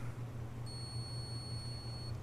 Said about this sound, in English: So when it's set on audible continuity, it will beep.